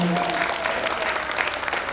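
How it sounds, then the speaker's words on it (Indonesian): Dense clapping from a church congregation at a senior community worship service fills the room steadily and evenly, with a brief sustained voice tone at the very start. "Tepuk tangan yang dahsyat buat Tuhan Yesus."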